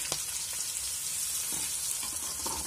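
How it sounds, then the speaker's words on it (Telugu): Onions frying in a pan for a chicken legs fry give a steady close sizzle with faint stirring scrapes, and no one talks. "ఈ ఆనియన్స్ బ్రౌన్ కలర్ వచ్చేంత వరకు మనం ఈ విధంగా వాటిని ఫ్రై చేసుకోవాలి"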